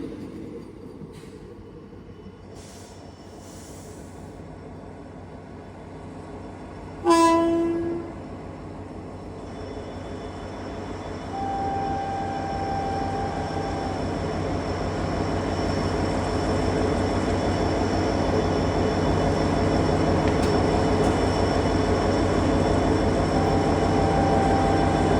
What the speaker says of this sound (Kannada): longest Vande Bharat of Indian railways ನೋಡ್ರಿ